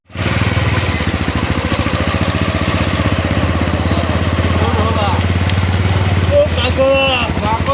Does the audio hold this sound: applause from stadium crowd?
no